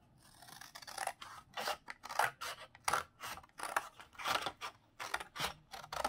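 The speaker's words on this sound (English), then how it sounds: "I'm gonna cut it." Scissors snipping through material for a four-season tree craft, a quick close series of crisp cuts in an uneven rhythm, quiet and with no talking.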